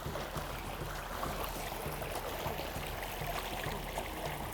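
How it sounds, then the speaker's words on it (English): A village river flows past with a steady, low rushing and trickling wash, heard moderately close and fairly quiet, with no talk over it. "they have to come here to this river that I am approaching"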